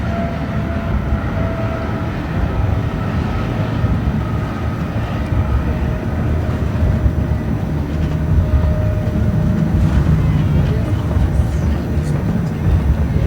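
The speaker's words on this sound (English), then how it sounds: "the noise we hear overhead is the helicopter escorts flying around" Steady rotor drone of escort helicopters circling overhead during a state burial service, a continuous rumbling wash that stays loud and even throughout without breaks.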